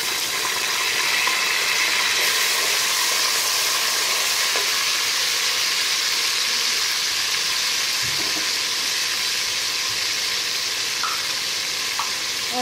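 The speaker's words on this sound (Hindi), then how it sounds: "फिर इसके बाद हम इसमें ये अदरक लहसुन का पेस्ट डाल देंगे।" Steady, dense sizzling of ginger garlic paste frying in a hot pan, continuous and close, with occasional faint clinks of stirring.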